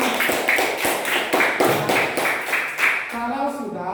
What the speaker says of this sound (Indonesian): tepuk tangan dulu untuk kita semuanya